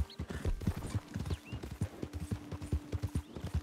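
Horse hooves clip-clop in a steady, close galloping rhythm while riding in Red Dead Redemption 2 Online, with a brief low whinny-like tone and a thin background game ambience.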